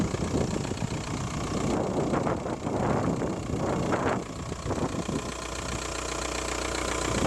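A 1996 Audi A3 1.9 TDI four-cylinder inline diesel engine idles steadily up close with a rough, knocking diesel clatter, continuous and fairly loud, with some brief handling noises over it.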